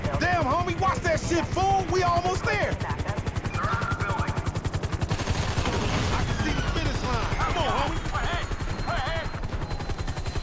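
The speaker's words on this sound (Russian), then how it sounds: "Нормально вертушку сбили." Helicopter under sustained rapid gunfire in Grand Theft Auto V, a dense, relentless automatic rattle running throughout, with voices talking over the shooting.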